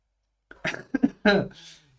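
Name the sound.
cough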